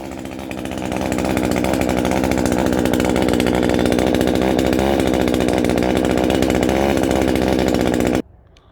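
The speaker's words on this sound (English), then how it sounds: "I'm going to prune 7 of them today with the chainsaw" A chainsaw pruning plum trees runs loud and steady at close range for several seconds, its engine droning with slight rises, then cuts off abruptly.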